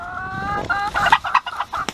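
An old farm hen clucks in a quick run of close, bright calls that come in short bursts with brief pauses between them.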